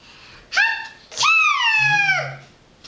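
A human voice imitates a bear sneezing, a short breathy intake followed by a long, loud, drawn-out achoo, delivered alone and close.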